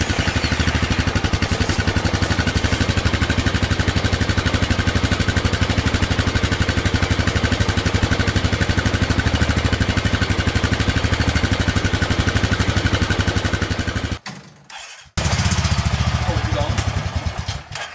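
Honda Pioneer 500 UTV engine running steadily with a silent muffler fitted, a close, even rumble that cuts out briefly near the end before resuming.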